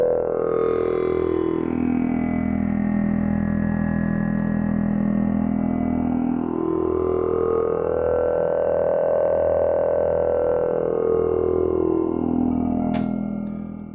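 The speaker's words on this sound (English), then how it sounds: "So that's a pretty cool sci-fi style pad sound going on there" A sustained wavetable synthesizer pad with a slowly sweeping, glassy sci-fi tone that rises and falls, washed in lush plate reverb and playing alone at steady volume.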